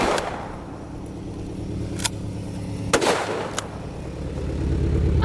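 A shotgun fired at a running car gives a few sharp, loud blasts spaced a second or so apart over a steady engine idle, outdoors at close range.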